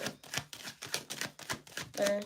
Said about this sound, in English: I'm going to shuffle one more time with each deck